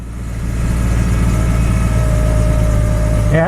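Jeep Cherokee XJ engine running at a steady low idle just after starting, close and continuous, with a brief voice at the very end.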